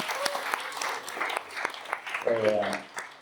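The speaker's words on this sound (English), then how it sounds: "Can we give them a round of applause?" A startup-event audience applauds the venue hosts in a short burst of scattered clapping, and a voice breaks in partway through.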